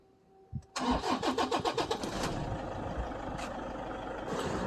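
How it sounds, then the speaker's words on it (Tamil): A Toyota Innova engine cranks with a rhythmic pulsing whir, then catches and settles into a steady, close idle. "ஒரு அருமையான இன்ஜின் சத்தம் டொயட்டா"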